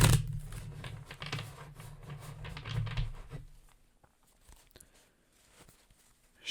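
Tarot cards shuffled by hand: a dense flurry of soft riffling clicks and flutters for about three seconds, then a few faint scattered taps and near silence.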